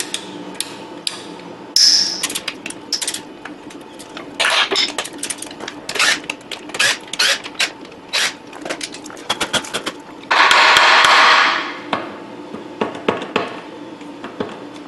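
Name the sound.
loosening bolts on a Jeep manual transmission shift tower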